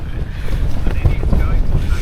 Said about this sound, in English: these gusts are still incredibly stupid.